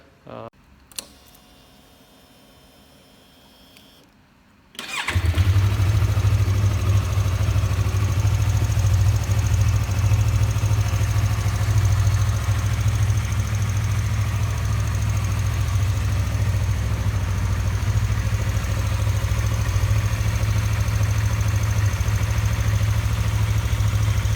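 A motorcycle engine on a monsoon road trip is cold-started after a quiet moment: an abrupt catch, then a loud, steady low idle drones on close by for about twenty seconds.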